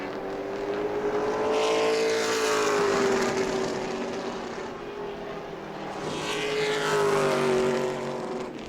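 Pro Late Model race cars pass during group qualifying at New Smyrna, engines rising and fading in two distinct sweeps as the cars roar past, with a steady distant drone between passes and no talking.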